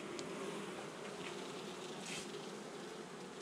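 A strong honeybee colony hums steadily throughout an open-hive inspection, a dense continuous buzz of many bees close by with no talking.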